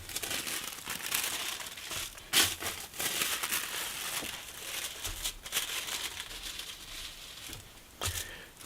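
Fabric being cut out for a sewing pattern piece, with steady crinkly rustling and snipping of cloth and paper close by, continuing throughout with a few sharper crunches.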